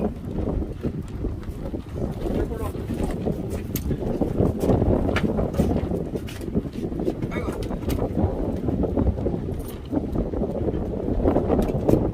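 Wind gusts outdoors on a spring day, a steady broadband rush with buffeting against the microphone, continuous and fairly loud throughout.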